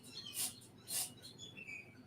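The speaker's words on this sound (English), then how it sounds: "I do hear some birds in the background." Faint birds chirp in the background, with two short, high, bright bursts followed by softer thin calls in an otherwise quiet room.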